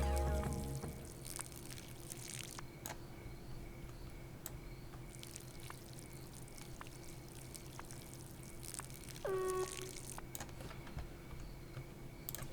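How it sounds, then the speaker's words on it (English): Plants being watered in the video game Schedule I, with faint pouring and trickling water under quiet background hum, a brief brighter burst near the end. "and water our plants while we're at it."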